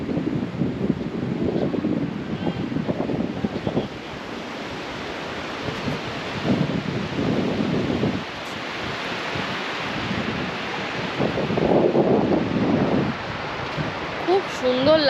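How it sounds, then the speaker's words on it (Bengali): Wind gusts and breaking surf on Mandarmani beach in the morning, a steady broad roar under the whole stretch, with voices murmuring nearby at intervals. "এত সুন্দর হাওয়া দিচ্ছে, দারুণ লাগছে"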